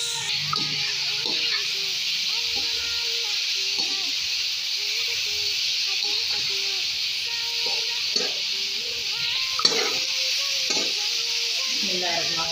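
Onions sizzling in a pan with garlic already fried brown, a continuous bright hiss of frying with occasional stirring scrapes and clicks, close and steady throughout with no voice.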